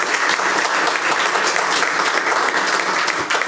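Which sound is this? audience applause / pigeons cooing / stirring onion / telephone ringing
audience applause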